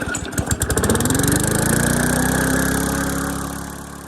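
An old lawnmower engine, unstarted for about eight years, cranks with rapid sputtering pulses, then catches and settles into a loud, steady running drone.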